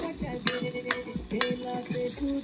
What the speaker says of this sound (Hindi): फ्राई होके पूरा लाल होना है